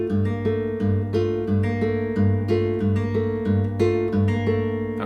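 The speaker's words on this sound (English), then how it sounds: "I think a beautiful intro to maybe kind of Travis style finger picking" Acoustic guitar fingerpicked in Travis style, playing an intro: a steady alternating thumb bass under ringing treble notes, close and clear, with no talking.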